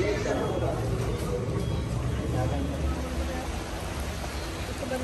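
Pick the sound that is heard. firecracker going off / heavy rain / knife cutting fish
heavy rain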